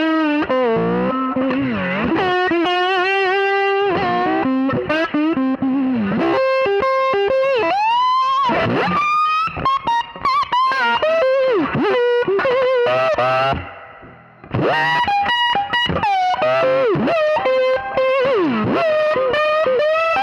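Sustained slide guitar from a Gibson SG on the neck pickup through a Fender 1966 Vibrolux amp turned up, warm overdriven tone, gliding notes and sliding pitch bends, played continuously and loud with a brief dip near the end.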